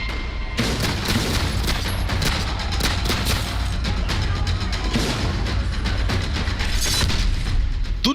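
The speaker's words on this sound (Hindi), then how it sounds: "अमेरिकी संसद में गोलीबारी" Gunfire during the shooting at the US Capitol in news footage: rapid bursts of sharp shots and booms crackling over a dense, noisy background, loud and continuous throughout.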